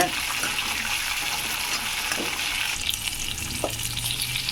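Brinjal and cowpea masala with onion and salt sautéing in a pan for a Kongunad-style kuzhambu, a steady broad sizzle with a few soft scraping stirs, close and continuous with no talking.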